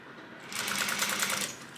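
A sewing machine runs a straight stitch down a fabric edge, starting after a brief pause and then whirring in a steady, rapid, even rhythm close by with no talking.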